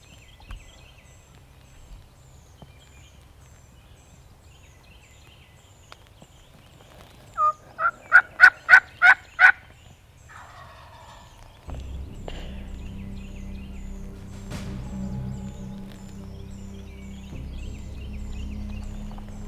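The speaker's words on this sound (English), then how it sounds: "big boy behind us sounded off with a loud gobble" A wild turkey tom gobbles loudly from close by during a turkey hunt at FarmLinks, a rapid rattling burst of about six pulses standing out over quiet woods, followed by rustling and a low rumble.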